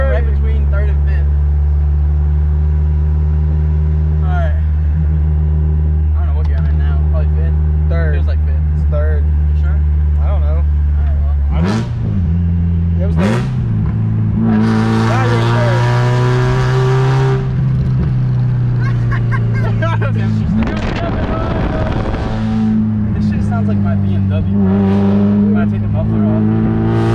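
Mazda Miata NB engine hums steadily while driving without power steering, with revs rising and falling through missed and rushed gear shifts between third and fifth, loud and close throughout.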